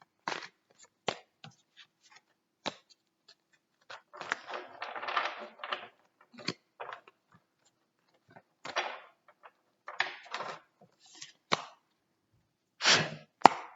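Tarot cards shuffled by hand, with quiet intermittent bursts of riffling and soft slapping separated by short silences.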